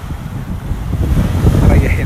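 Sea waves and wind at the shore, a loud rough rumbling wash of surf with gusting wind buffeting the microphone, continuous and building slightly toward the end.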